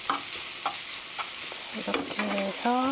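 Pear fried rice is stirred and pushed around a pan over low heat, giving a soft continuous sizzle with rhythmic spatula scrapes and a few taps. A voice speaks briefly over it.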